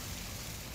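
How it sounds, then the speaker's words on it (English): Steady rain hisses as a dense, even wash of noise, constant and moderately loud with no individual drops or voices standing out. "I know Fern won't come in such bad weather."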